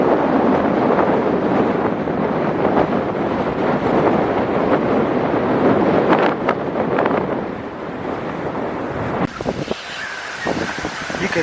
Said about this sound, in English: You could hear the hurricane.